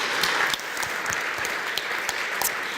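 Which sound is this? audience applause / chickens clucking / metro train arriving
audience applause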